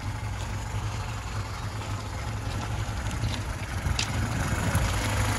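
A motor engine idles in a steady, low, even rumble that stays constant throughout. It is fairly close, with no voices.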